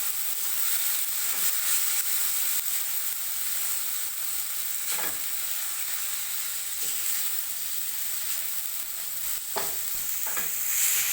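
Ginger garlic paste fries in a pan while being stirred, a continuous close sizzle with occasional scraping strokes of the spoon, steady and unbroken, no talk.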